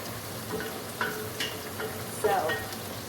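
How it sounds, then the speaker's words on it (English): Chopped onion and garlic sauté slowly in a pan with a soft continuous sizzle, broken by a few utensil scrapes and stirring clicks close by. "So I'm gonna saute this onion and garlic here slowly."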